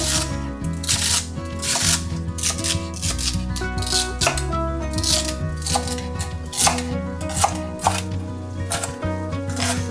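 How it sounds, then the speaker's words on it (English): A knife chops celery on a cutting board in quick, steady, close strokes, a dense run of crisp cuts and thuds, with no talking. "I'm gonna cut the celery now."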